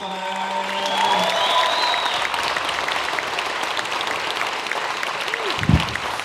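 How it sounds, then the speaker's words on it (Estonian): A live comedy audience claps steadily in a hall as Finnish comedian Ari-Matti Mustonen is welcomed onto the stage, the applause broad and sustained throughout, with a faint crowd murmur underneath and a brief thump near the end. "palun võtame sooja aplausiga vastu"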